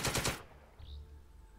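A machine gun fires a short, loud burst of rapid shots in the video game Second Front, followed by a quieter low rumble and a faint high ping.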